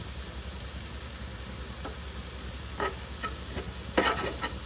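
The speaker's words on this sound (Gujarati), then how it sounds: "બધું સારી રીતના મિક્સ કરી લઈશું" Spices such as turmeric, red chili powder, coriander-cumin powder, lemon juice and powdered sugar are stirred into a kachori filling, with soft steady scraping and a few sharper clinks of a spoon against the bowl.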